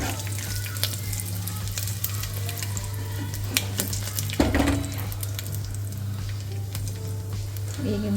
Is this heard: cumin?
yes